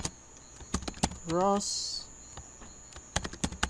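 Keys clatter on a computer keyboard as a command is entered, a burst of sharp clicks at the start and another near the end, with a person talking between them.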